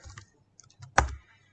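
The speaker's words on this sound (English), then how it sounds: "I am typing in the chat box." Typing on a computer keyboard in a chat box during an online cyber forensics session: a few light scattered key taps, then one louder click, heard close and alone.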